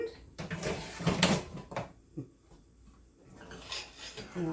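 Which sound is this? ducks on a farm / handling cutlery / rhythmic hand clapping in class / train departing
handling cutlery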